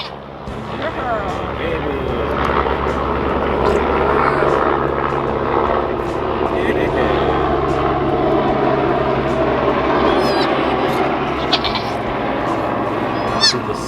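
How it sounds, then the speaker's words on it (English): A helicopter passes overhead at a goat kidding, a steady broadband engine and rotor drone holding loud throughout with a low hum beneath, while voices talk over it. "The soothing sounds of a helicopter flying"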